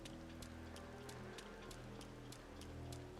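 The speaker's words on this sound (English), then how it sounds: "It's raining. The rain does look pretty." Steady rainfall patters across the streets in the Yakuza Kiwami video game, soft and even, with faint rhythmic ticking and a low ambient hum beneath.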